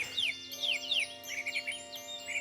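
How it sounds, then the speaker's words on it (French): A bird sings a varied, repeated phrase of clear whistled notes and quick downward chirps, nearby and distinct over a faint steady hum. "La grive musicienne tire son nom de son chant flûté et très varié"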